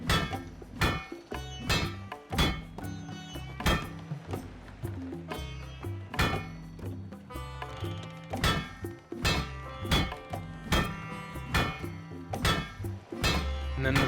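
Repeated hammer strikes on ore in the Spiritfarer blacksmithing minigame, a video game, with sharp metallic thunks landing in a steady, fast rhythm over background game music for the whole stretch.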